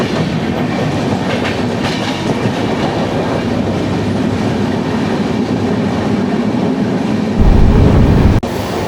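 The Venad Express runs at about 80 km/h, with loud, steady rumbling and rhythmic clickety-clack close by and a heavier low thump near the end, no voices.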